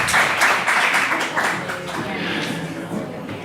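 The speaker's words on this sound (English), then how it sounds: "Can we get a round of applause for their art and their contribution?" A live audience at a gallery event gives a round of applause, a dense burst of clapping that starts loud and slowly thins, with voices mixed in beneath it.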